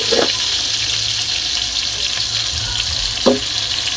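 Whole pointed gourd (potol) frying in oil in a pan, a steady broadband hiss running throughout with a couple of brief clatters, fairly close and alone without speech.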